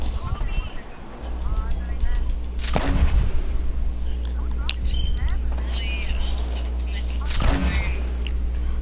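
Rockets and grenades exploding in Fortnite, with two heavy booming blasts several seconds apart over a constant low game rumble, while players talk throughout.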